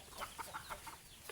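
Backyard pet chickens clucking in a quick run of short, evenly spaced calls, soft and somewhat distant over a light background hum.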